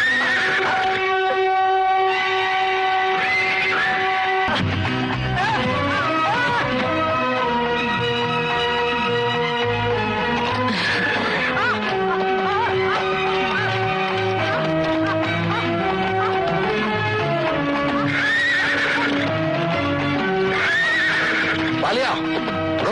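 A horse in a 1988 Hindi film scene whinnies several times, loud and close, with hooves clip-clopping beneath a continuous bed of background music.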